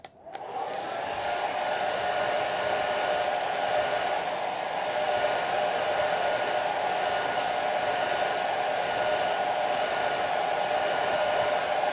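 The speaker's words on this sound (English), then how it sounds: "So I'm going to put the hair dryer on." Hair dryer blowing on wet watercolor paint, switched on with a click then a steady loud whooshing roar with a constant hum, running alone without pause.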